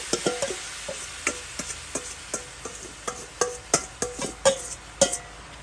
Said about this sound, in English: Hear that sizzle, huh?